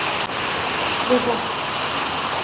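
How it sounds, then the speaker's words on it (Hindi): Rain falls at night in a steady, dense hiss that fills the whole stretch, close and even, with a faint brief bump partway through. "देखो बारिश आ रहा"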